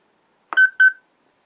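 A musical greeting card's voice recorder gives two short electronic beeps, one right after the other, close and clear, with no other sound around them.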